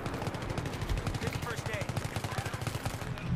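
Sustained machine-gun fire in the online shooter Battlefield 3, a dense rattling stream of rapid shots that stays loud throughout, with voices faintly mixed into the battle din.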